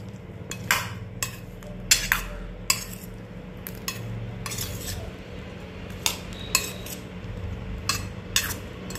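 A spoon mixes green pea bhel in a bowl, giving repeated sharp metallic clinks and scrapes in an irregular rhythm, close and clear, with no one talking.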